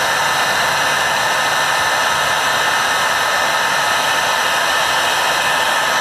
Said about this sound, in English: All right, one heat gun. That's hot.